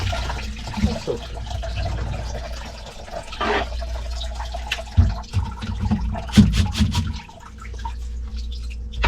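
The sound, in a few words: vinegar being poured into a clogged kitchen sink drain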